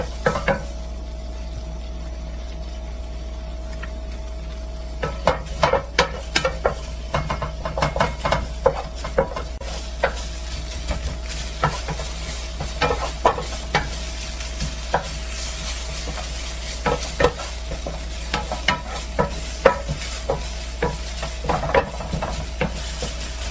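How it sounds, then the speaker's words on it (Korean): Beef stir-fried in a pan, a constant sizzle broken by frequent sharp scrapes and clacks of a utensil tossing the meat, rhythmic and up close with a low hum underneath. "그리고 고기 넣어 볶겠습니다"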